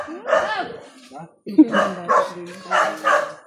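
Several dogs barking in short bursts, fairly close, with voices talking over and between the barks.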